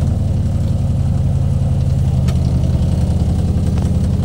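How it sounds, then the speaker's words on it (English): An old Takeuchi digger's diesel engine runs steadily at idle, a constant low rumble close by, with no talking. "Try the old Takeuchi. Can't find where to turn the revs up in this thing."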